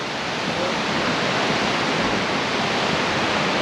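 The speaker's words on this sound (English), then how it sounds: "So, anyways, that's Helton Creek Falls." Helton Creek Falls in the North Georgia mountains pours in a dense, unbroken roar of falling water, loud and close, with no voices over it.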